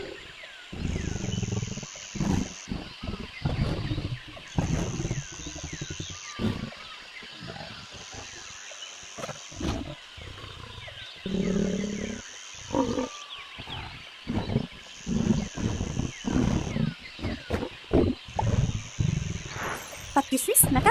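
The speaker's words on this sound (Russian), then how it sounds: "Лев, замечательно." A lion roaring in repeated deep, rumbling bursts separated by short gaps, loud and close, with a child-directed voice talking between the roars and a repeating high tone in the background.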